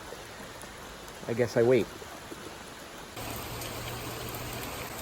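Steady rain pattering on a lawn being overseeded with fescue, a broad even hiss that grows denser partway through, with a brief spoken comment early on.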